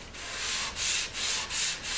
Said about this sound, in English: I'm just going to take our sandpaper and